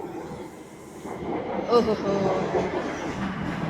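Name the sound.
Delhi Metro train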